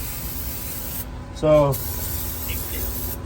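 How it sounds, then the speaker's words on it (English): Aerosol brake cleaner sprayed into a mini truck's gear housing to flush out old gear oil, a steady hiss running through the clip with a short voice in the middle. "you gotta spray the brake clean in here"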